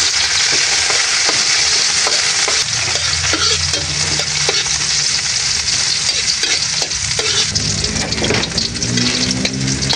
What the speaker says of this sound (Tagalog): At ngayon po ilalagay ko na rin po itong sibuyas.